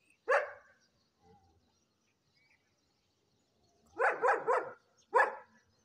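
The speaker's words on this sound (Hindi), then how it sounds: "ये भी राक्षस जैसा कुत्ता है" A large dog outdoors in the morning gives a single bark, then after a pause a quick burst of three barks and one more, loud and fairly close against a quiet background.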